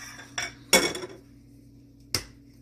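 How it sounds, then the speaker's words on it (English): Clinks and taps of an egg against dishes while it is cracked into a separate container for chocolate chip cookie dough: a few sharp close knocks and a brief crunch, with no talking. "I always like to crack my eggs into a different container in case a shell gets in there."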